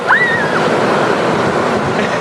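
Ocean waves surge and wash close by on a beach in a continuous loud roar with wind on the microphone, and a short high voice-like cry rises over it at the start.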